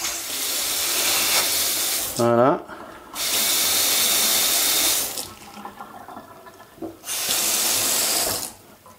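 Water from a tap fitted with a Xiaomi ZAJIA infrared sensor faucet aerator gushes in three bursts, switching on and off abruptly with short pauses between, loud and close, with a brief voice between runs.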